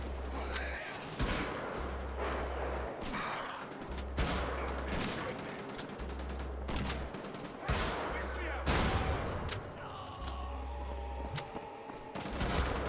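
Repeated shotgun blasts in Wolfenstein: The Old Blood, loud sharp booms spaced roughly a second apart in a steady volley, with other gunfire and game noise filling the gaps.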